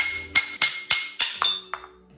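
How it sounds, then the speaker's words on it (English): A hammer strikes a metal shock sleeve on a 2025 Toyota Land Cruiser during a 3.5-inch lift install, six sharp ringing clanks at an even pace, close and loud with no talking. "Now time to off this sleeve or whatever it's called. And same thing, you just hammer it."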